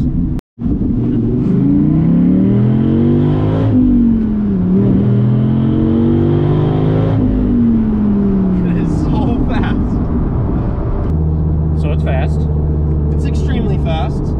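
A Gen V Dodge Viper V10 revs hard, its very loud exhaust rising and falling in pitch through repeated accelerations, close and continuous, with a voice speaking over the engine noise near the end.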